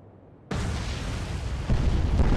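A warship's magazine blowing up after torpedo hits in the Atlantic Fleet naval game, a sudden loud blast that swells into a sustained roaring rumble and grows heavier toward the end.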